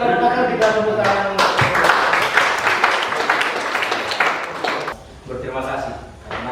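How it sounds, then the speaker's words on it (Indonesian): Audience clapping at a farewell-and-welcome ceremony for friars, heard as a steady burst of hand claps mixed with voices and room noise, briefly dipping before the clapping carries on. "terima kasih para pakar, kita tepuk tangan"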